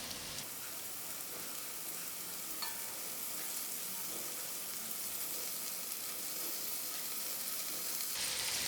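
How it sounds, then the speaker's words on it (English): Soya chunks fry in a pan with biryani dhal added, giving a dense, even sizzle with a rain-like crackle that carries on steadily close by. No one speaks. "It took about 10 minutes and the soya fried out nice and dry. So I'm going to add in now my biryani dhal."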